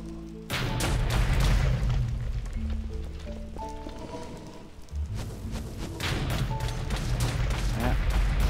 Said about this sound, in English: It appears the anti-air gun will track targets on the other that are slightly obscured by blocks, and it will try and fire at them